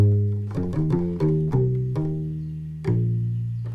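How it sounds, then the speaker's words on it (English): Gimbri, the North African bass lute, plucked without percussion: a handful of deep, round notes with short melodic slides and a final ringing note, close and unaccompanied. "So the instrument can be played like with no percussion,"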